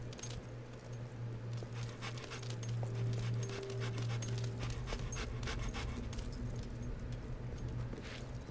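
A dog in the video game Fable 2 pants rapidly with faint whimpers, close and fairly quiet over a steady low hum and scattered light clicking.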